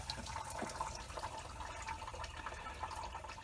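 Water rushing and gurgling as it is flushed through the cooling system of a Mercedes ML320 (W163) engine, a continuous churning splash at moderate level with no talk.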